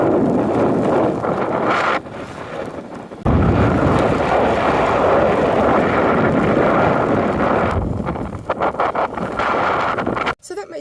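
Strong winter wind at a Washington beach buffets the microphone in a loud, roaring wash that drops briefly and returns, with no talking over it.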